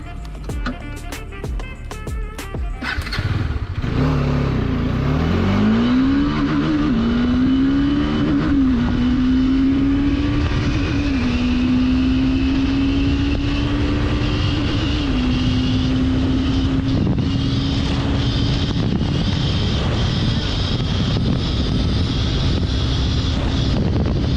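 A Bajaj Dominar 400 motorcycle engine pulls away and climbs through the revs in a steady, loud drone with rising pitch, then settles into an even cruising hum under heavy wind buffeting.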